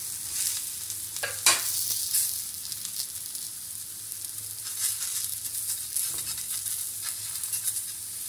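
A bottle gourd stuffed paratha frying on a pan over a high gas flame, with a soft steady sizzle and a few sharp scrapes and taps, close and fairly quiet, no talk.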